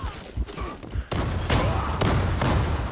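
An explosion in the video game Zula: a sudden loud blast with a booming, rumbling tail that lingers, following a few scattered thumps.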